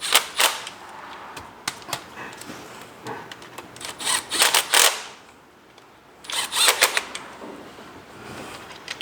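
Bursts of an impact wrench on a low torque setting rattle bolts tight on a Honda Civic during a TDC sensor replacement, several short loud hammering runs separated by brief pauses, close by.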